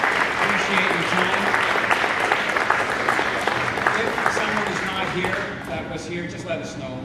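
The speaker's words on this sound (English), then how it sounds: "let's just give another round of applause to our mentors" Audience at a Ford innovation showcase gives a sustained round of applause for the mentors, dense clapping that gradually thins toward the end, with a voice talking over it.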